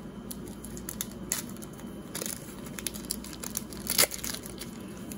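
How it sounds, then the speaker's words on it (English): An NBA Hoops basketball card pack is torn open, close crinkling and crackling wrapper sounds in irregular bursts, with a sharper rip near the end. "So we'll open up this NBA Hoops card app pack first."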